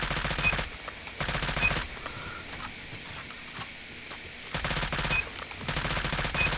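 A Type 25 assault rifle in Call of Duty Mobile fires rapid full-auto bursts, two loud dense stretches separated by a quieter gap of faint game ambience, no speech.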